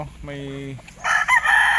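A gamefowl rooster at a hillside breeding farm crows once, loud and close, a drawn-out harmonic call followed by a brief burst of noisier clucking.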